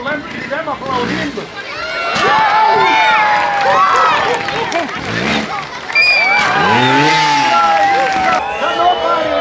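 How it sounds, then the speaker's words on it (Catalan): A crowd at Arnau Farré's motorcycle trial exhibition in La Bisbal keeps up a loud, continuous roar of cheering, with shrill whistles cutting through and a commentator speaking energetically over the noise. "Va, xiulem, cridem, aplaudim!"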